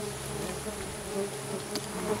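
Stingless Melipona bees drone steadily at their hive, a continuous close buzzing hum that holds through the short stretch with small swells in loudness and no voices.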